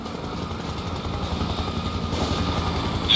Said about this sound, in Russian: Тихо, летит вертушка.